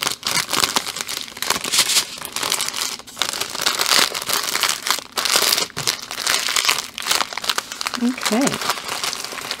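Plastic bags crinkle and rustle almost continuously as diamond painting kits are unbagged, a close, busy crackling with brief pauses and a short spoken word near the end.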